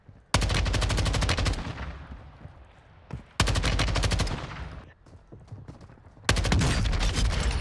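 Three loud bursts of automatic weapon fire in the battle royale game Warzone, each a rapid stream of shots lasting over a second before cutting off, separated by quieter gaps.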